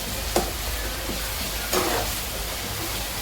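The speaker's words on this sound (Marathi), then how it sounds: "आता मी याच्यात लसण टाकतो. हे लसण टाकून घेतली. लसण चांगली पकवू देतो" Garlic frying in a pan for a traditional Marathi vegetable dish, a steady low sizzle with two brief scraping stirs, close and moderately quiet, no voices.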